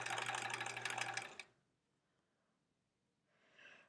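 Sewing machine stitching a scant quarter-inch quilt seam: a loud, steady mechanical whir for about a second and a half, then near silence, with a brief quieter whir starting again at the end.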